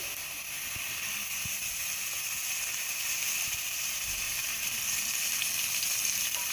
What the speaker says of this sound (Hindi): इसमें हम डालेंगे गोश्त जो हमने लिया था। अब हम डालेंगे इसमें थोड़ा सा तेल।